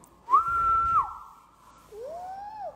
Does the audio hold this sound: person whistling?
yes